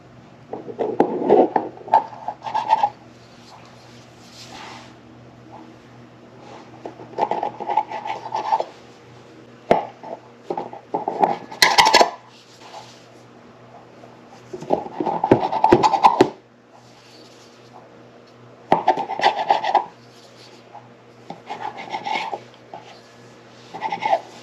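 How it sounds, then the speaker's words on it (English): A knife cuts pumpkin scone dough into wedges on a board, giving short scraping and rubbing strokes in separate bursts with quiet gaps between them, close by, with no voices. "You cut it like a pie. Into little wedges."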